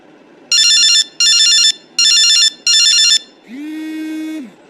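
A telephone ringback tone sounds during a call attempt: four loud, evenly spaced electronic ring bursts, followed by a steady lower tone as the line cuts off.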